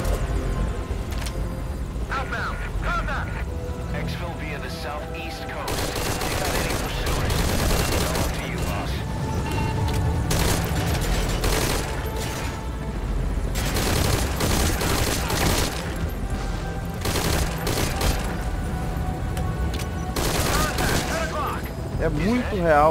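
Bursts of gunfire in Metal Gear Solid V: Ground Zeroes crackle repeatedly, with sustained volleys and scattered single shots, loud and close, over a constant low rumble.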